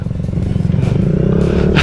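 A Kawasaki Grom small motorcycle ridden along a road in Long Beach, its engine a loud, steady, buzzing drone heard up close with wind rumble, pitch rising slightly toward the end.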